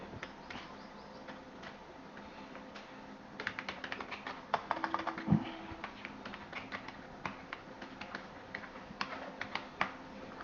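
Keys tapped on a computer keyboard while an address is entered into an online application form, a quiet irregular patter that starts sparse and picks up into bursts of keystrokes.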